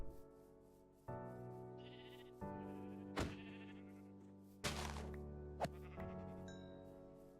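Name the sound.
sheep bleating in Minecraft video game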